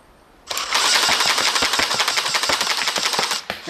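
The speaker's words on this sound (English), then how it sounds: "that's half of the fun of shooting a full auto device" A full-auto archery device shooting arrows in a rapid burst: a loud, dense stream of mechanical clacks and whooshes that starts abruptly, holds steady for about three seconds and then cuts off.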